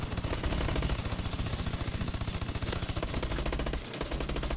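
Rapid automatic gunfire in Call of Duty, a dense stream of sharp shots fired in quick succession with a brief gap near the end, loud and with no talk over it.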